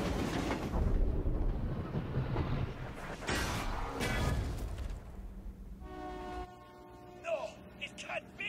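A train rolls along its rails in the Captain America: Super Soldier video game, with a loud, dense rumble and clatter for the first half before it fades into quieter game sounds, tonal effects and a spoken voice.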